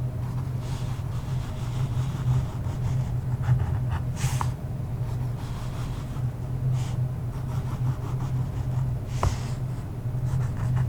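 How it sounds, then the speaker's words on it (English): Colored marker pens squeak and scratch in short strokes as points are highlighted on the pages of a book, soft and close over a low, constant background hum, with no talking. "I'm going to highlight some points."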